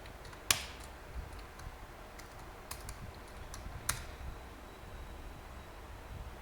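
Faint keystrokes on a computer keyboard during an online typing class, a few sparse clicks and taps with one or two sharper strikes over quiet background hiss.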